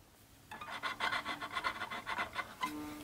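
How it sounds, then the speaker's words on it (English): Rosin being rubbed along a hurdy gurdy string in a series of short, rhythmic scratchy rasping strokes, close and fairly quiet, with no talking. "rosin the string here."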